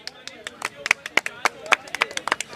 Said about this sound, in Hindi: ताली मार दो फिर।